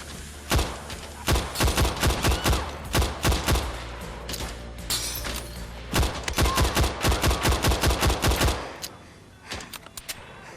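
Rapid bursts of gunfire in the VR game Better Than Dead, loud sharp shots in quick volleys with brief pauses between, ending in a few scattered single shots.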